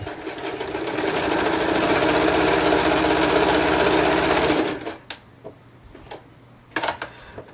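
A serviced metal sewing machine motor runs smoothly while stitching four layers of wool, a close steady hum and needle chatter for several seconds before stopping, followed by a few light clicks and handling knocks.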